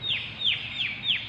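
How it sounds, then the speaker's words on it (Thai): At a temple in Rayong province, Thailand, a bird gives four evenly spaced, descending high calls in quick succession, clear and fairly close over a soft background hum, with no voices. "โอ้เสียงนกร้องน่ารักมากเลยค่ะ"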